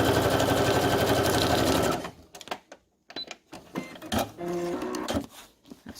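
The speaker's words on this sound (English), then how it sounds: "sew it that way." A sewing machine stitches a fabric Halloween craft pocket, whirring loudly and steadily for about two seconds, then giving way to scattered handling and fabric rustles up close.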